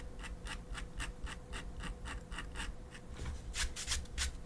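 Rhythmic scraping strokes across textured watercolor paper, close and regular at about three per second, growing brisker and louder toward the end over a constant low background hum.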